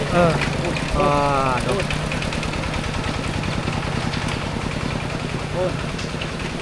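A small two-wheel tractor engine idles with a steady chugging rhythm, loud and close, while a voice speaks briefly over it.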